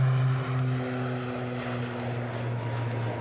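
An ATR turboprop departs from Manchester Airport, a steady propeller drone with a sustained low engine hum, moderately distant and constant throughout.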